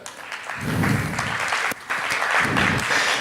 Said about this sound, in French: On peut quand même applaudir l'équipe nationale.